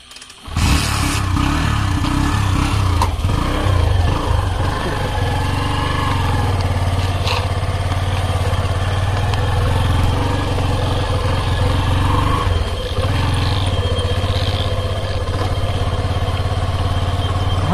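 A motorcycle engine idles on a road at night, a steady, loud, low rumble that holds evenly for nearly eighteen seconds after a brief start, with no voices over it.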